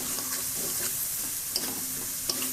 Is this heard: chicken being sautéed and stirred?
yes